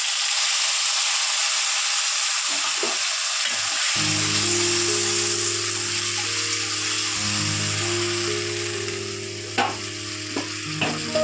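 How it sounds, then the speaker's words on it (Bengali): Spice paste goes into a hot frying pan for a catfish curry and sizzles loudly and steadily, joined partway through by a humming tone and a few light clinks from stirring. "এবার মশলাটা আমি এর মধ্যে দিয়ে দিচ্ছি।"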